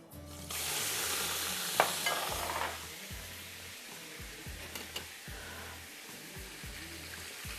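Chicken dropped into a hot pan for pulao bursts into a loud sizzle that settles into a quieter steady frying, with rhythmic scraping of a spoon stirring and a few clinks; no voices.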